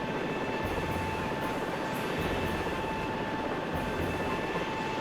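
A video game helicopter's rotor and engine drone on steadily, a loud, unbroken mechanical whir with a faint whine, and no talking.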